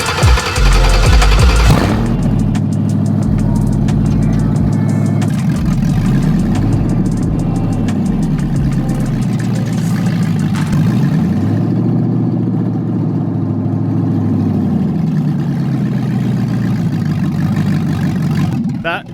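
LS V8 engine swapped into a Chevy S10 idling loud and close, opening with a strong blip then settling into a steady rumble that rises and falls in slow swells, with people talking excitedly over it.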